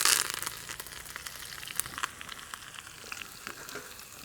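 Cumin, mustard seeds, chillies and curry leaves temper in hot oil in a pan, an opening loud burst of sizzle settling into a close, crackling, spitting fry.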